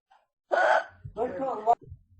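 A woman's hiccups, in a drunken bout, break out in short voiced bursts close to the mic, with a gasp-like catch between, and talk comes just after.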